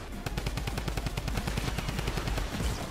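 Rapid automatic gunfire in the video game Fortnite, a dense stream of sharp shots fired in quick succession for several seconds, loud and continuous with no talking.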